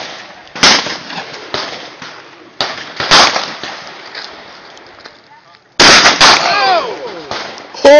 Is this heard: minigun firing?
yes